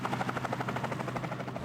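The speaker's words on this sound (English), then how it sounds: "that will bring a chopper" A military helicopter arrives in the video game One Military Camp, its rotor beating in a fast, steady, even throb with a droning engine hum, continuous and fairly close throughout.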